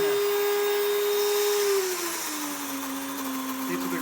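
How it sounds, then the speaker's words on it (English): An electric wheat grinder whirs with a steady high hum, its pitch dropping partway through as wheat is added and the motor takes on load; no voices. "we put that into the wheat grinder"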